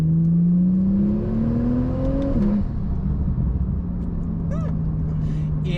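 A 2014 Porsche 911 Turbo's 3.8-liter turbocharged flat-six climbs in pitch as it accelerates, drops sharply at a gear change, then settles into a steady, strong cruising drone with turbo whir.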